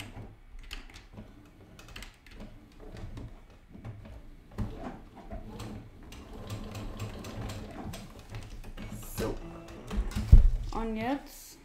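A sewing machine stitches over thick, bulky fabric while sewing a small bag, its needle mechanism chattering in uneven bursts with brief pauses, up close and fairly quiet, while a person talks over it.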